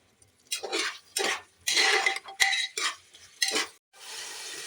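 Tomatoes frying and being stirred in a pan for a vegetarian chickpea curry, with repeated bursts of scraping and clinking from a spoon against the pan over a steady, close sizzle.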